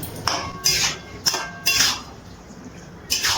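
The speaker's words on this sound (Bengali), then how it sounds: "এবারে সব কিছু ভালো করে মিশিয়ে নিচ্ছি" A spoon scrapes and knocks in a pan of shrimp and kohlrabi curry, making several sharp metallic clinks at an uneven pace, close and fairly loud.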